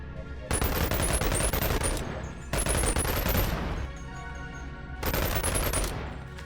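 Uzi submachine gun fire in a video game: three long, dense bursts of rapid automatic shots separated by brief pauses, loud and close.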